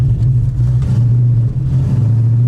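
A drift car's engine at a drift day, heard as a loud, close, steady low drone held throughout without clear rises in pitch.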